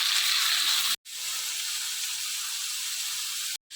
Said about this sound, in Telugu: ఇప్పుడు పచ్చిరొయ్యలు వేసుకుందాం. ఇవి కొంచెం సేపు వేయించుకుందాం.